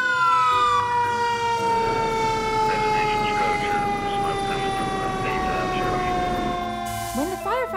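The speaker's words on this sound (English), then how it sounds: "Lights and loud sirens warn people to get out of the way." A fire truck siren wails loudly, its tone sweeping up and down over a rumbling engine, with a horn-like burst near the end.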